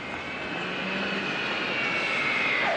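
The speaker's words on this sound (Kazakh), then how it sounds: "Алматы қаласынан ұшқан ұшақ Астана қаласының әуежайына келіп қонды" Passenger airplane from Almaty landing at Astana airport, its engine roar steady and fairly loud, with a high turbine whine that slides downward near the end; no talking.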